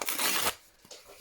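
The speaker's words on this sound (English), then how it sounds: "We're going to tear this piece off there." A sheet of paper torn by hand while working on a planner: one loud, close ripping stretch lasting about half a second, followed by softer crinkling and handling noises.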